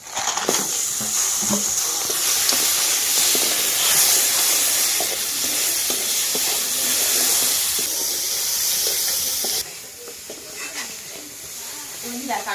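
Crabs sizzle in a hot pan with turmeric and salt, a steady broadband hiss with stirring scrapes that runs loud for about ten seconds, then drops to a quieter sizzle.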